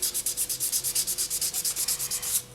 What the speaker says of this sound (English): I'm going to start off with 800 grit sandpaper